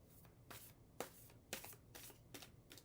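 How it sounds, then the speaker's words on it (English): Tarot cards shuffled by hand at close range, with about seven crisp riffling bursts at an uneven rhythm, quiet and alone. "going to shuffle here."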